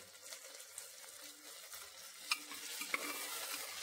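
Green peas stirred and frying in a pan for a pulao, a soft steady sizzle with scraping stirs and a couple of light clicks, close and quiet throughout.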